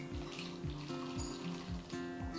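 Pickle brine pours over sliced cucumbers into a jar for bread and butter refrigerator pickles. The liquid gurgles and splashes steadily, with some faint, soft rhythmic background sound underneath.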